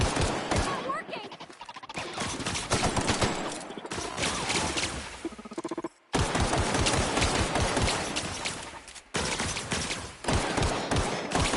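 Dense video-game gunfire, rapid bursts and shots almost continuous over a loud game soundtrack and effects, with a brief drop near the middle.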